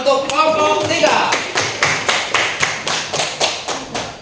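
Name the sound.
audience clapping for a presenting group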